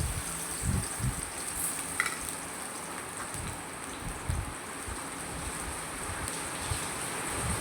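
Chopped large onion frying in oil in a kadai, a steady, even hiss of sizzling that holds at a constant moderate level with a few faint low knocks underneath.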